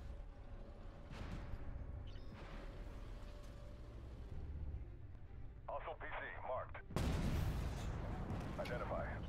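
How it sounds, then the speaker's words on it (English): Missiles launch and explode in a tank video game: thuds and booming bursts come at scattered moments, the heaviest one late. They are heard over a low engine rumble, with a person talking throughout. "These, yes, missiles are slower than cannon shot."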